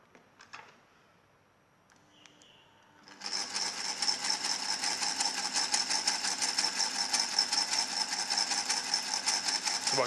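A homemade solenoid engine with sliding contacts and switching plates starts up after a couple of faint clicks, then runs with a steady, fast, buzzing mechanical clatter that continues evenly and moderately loud to the end.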